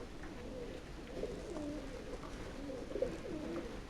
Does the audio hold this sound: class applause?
no